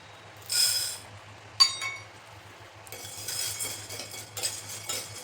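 Sago pearls dry-roasting in a pan for chakli flour, with scraping stirs, light clinks of a utensil against the pan and gritty rustling in uneven bursts over a low steady hum.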